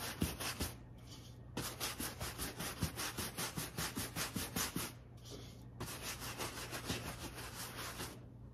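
Clear wax is rubbed by hand into painted upholstery fabric on a thrift store chair, making steady rhythmic scrubbing strokes that pause briefly twice, close and fairly soft, with no talking.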